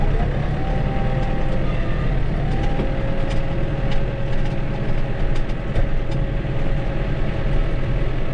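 A vehicle engine idles steadily to warm up on a muddy farm, a continuous loud, even rumble with a faint tonal whine and scattered light clicks, with no talking.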